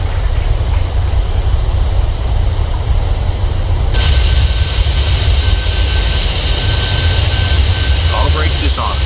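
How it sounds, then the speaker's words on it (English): Thrust reversers on a 737-800 BBJ2 roar on landing in a flight simulator, producing a loud, dense, continuous rumble that brightens partway through, with a voice speaking over it. "Reverser's normal."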